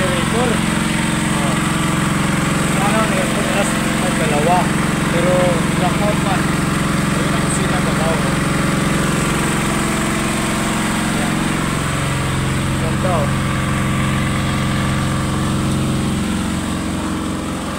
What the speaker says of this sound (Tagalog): Malamig doon pero maingay lang ang generator.